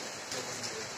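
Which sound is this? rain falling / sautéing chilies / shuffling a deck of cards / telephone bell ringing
rain falling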